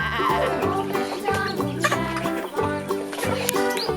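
Chickens clucking at feeding time in a home yard, short repeated clucks mixed with busy music and other noise, moderately loud throughout.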